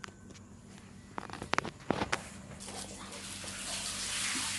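Black-eyed peas being washed in water, a steady splashing, sloshing wash that builds toward the end, with a few sharp knocks and clatters partway through.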